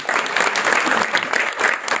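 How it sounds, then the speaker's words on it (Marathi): An audience at a devotional kirtan gathering applauds for a child, a dense, steady wash of many hands clapping together at close range throughout. "तिच्यासाठी एक टाळी वाजवून"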